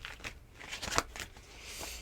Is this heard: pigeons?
no